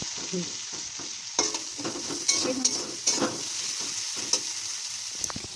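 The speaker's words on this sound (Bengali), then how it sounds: "এখানে পেঁয়াজ টমাটো তেল দিয়ে ভাজা করতেছি দেখুন এটা ভালো করে ফ্রাই করে দেখুন" Onion and tomato frying in oil, heard as a steady hiss of sizzling with several sharp scrapes and knocks as the pan is stirred, close and moderately loud, with no talk.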